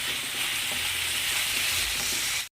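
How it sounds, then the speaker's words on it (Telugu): Onions frying in oil for a masala cabbage fry, a steady loud sizzle with faint stirring, close up and uninterrupted until it cuts off abruptly. "చూడండి, మనకి ఈ రకంగా ఫ్రై అవ్వాలి ఆనియన్"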